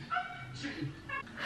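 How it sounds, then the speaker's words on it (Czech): A small puppy that is being taught to bark gives a few short, high yips and whimpers close by, broken up by a voice. "Tady koukáme na malýho Dexička, jak ho Dáňa učil štěkat."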